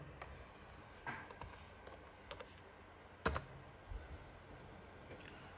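Sparse keystrokes on a computer keyboard enter an IP address, a handful of separate clicks with pauses between them, quiet and close with no talking.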